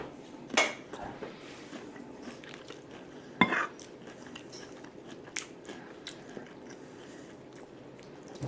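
Bites of homemade tuna salad with jalapeno and celery, heard as a few soft, close crunches and chews with light dish and utensil clinks, spread over quiet stretches.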